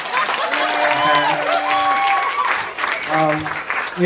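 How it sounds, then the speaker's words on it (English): Wedding guests applaud during a groomsman's toast, a steady wash of clapping with cheers and voices mixed in, fairly loud and close, with a brief lull before it swells again. "If you guys want to applaud."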